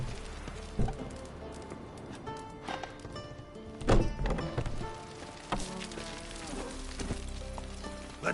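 In The Witcher video game, a horse gallops through rain with steady clip-clop hoofbeats, fairly close and moderately loud, against the pattering rain and occasional louder thumps.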